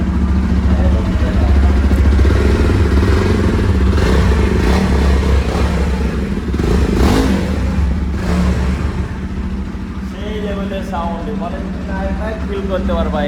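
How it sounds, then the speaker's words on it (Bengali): A Jawa motorcycle idles at a showroom in Kumarghat, its engine and silencer giving a low, even thrum that runs throughout, with people talking over it. "বাইকের সুন্দর সাউন্ড এদিকে সাইলেন্সার তুমি একটু সাইলেন্সারটা দেখাও"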